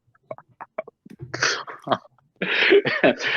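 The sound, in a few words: person blowing their nose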